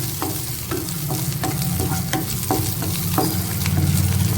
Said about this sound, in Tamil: பூண்டை கொஞ்சம் நல்லா வதக்கிக்கலாம்.